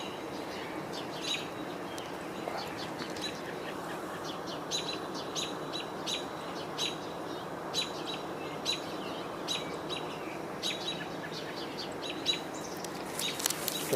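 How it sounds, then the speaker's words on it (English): Small songbirds, including a black-capped chickadee, chirp in short repeated bursts over a steady outdoor hiss during a summer bird walk, the calls fairly faint and scattered across the whole stretch. "Just heard a black-capped chickadee."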